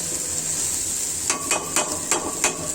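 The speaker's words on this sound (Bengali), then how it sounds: "একটা টমেটো দিয়ে ভালো করে মশলাটা কষিয়ে নিচ্ছি" Spiced masala cooked down with tomato for chickpea chhola fry sizzles softly in a pan, then five evenly spaced sharp clinks of a spatula or spoon against the pan ring out over the steady sizzle.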